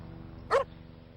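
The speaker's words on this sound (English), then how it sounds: "He's a good dog." A single short dog bark from the video game Parasite Eve 2, rising briefly above a steady low droning game background.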